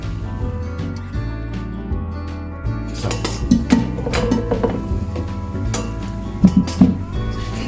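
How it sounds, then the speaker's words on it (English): Roast potatoes dusted with flour get bashed about in a metal colander in a home kitchen, giving a run of clattering, clunking knocks and scrapes that cluster and grow busier toward the end, close and moderately loud. "Just going to bash them about a wee bit in the colander so they're nice and soft around the edges"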